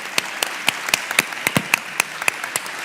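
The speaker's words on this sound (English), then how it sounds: "we should thank our panelists one last time and wrap things up for this afternoon. Yes, a round of applause." Applause for conference panelists at the end of an afternoon session, heard as sparse, distinct claps from a modest audience, sharp individual hits ringing out over a light background patter.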